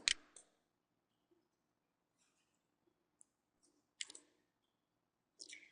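A computer mouse clicks a few times in a quiet room, sharp isolated clicks spaced apart with near silence between them and no talking.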